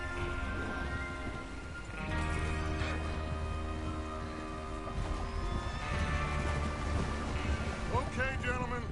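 A horse neighs and whinnies in the Red Dead Redemption 2 video game, with hooves clip-clopping beneath layered game music and voices talking throughout.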